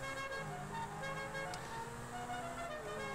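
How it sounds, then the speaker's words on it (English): A car horn in GTA V toots in a short melodic pattern of several quick notes, faint and steady over a low engine hum, no talk. "Oh, and it comes with its own horn. Listen."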